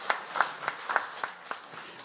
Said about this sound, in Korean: 오늘 교회 처음 참석해 오늘 박수로 한번 환영하겠습니다.